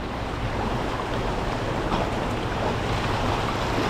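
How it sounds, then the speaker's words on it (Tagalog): Strong river current rushes in a dense, continuous roar of turbulent water, loud and close, with no talking. "Muntik na ko tangayin ng agos mga kadudoy."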